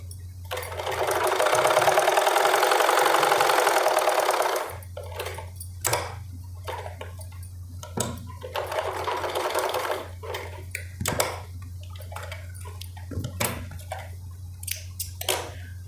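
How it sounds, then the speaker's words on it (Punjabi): Sewing machine stitching a seam on a salwar (Punjabi suit trousers), a loud steady whirring run for about four seconds, then short intermittent bursts of stitching with pauses over a low hum. "ਮਸ਼ੀਨ ਆਪਾਂ ਆ ਵੇਖੋ ਨਿਸ਼ਾਨ ਤੱਕ ਲਾਉਣੀ"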